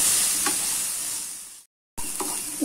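Ginger frying in hot sesame oil while being stirred in a pan for a spicy ginger pickle: a loud, steady sizzle with scraping stirs, cut by a brief silence, then the sizzling and stirring resume.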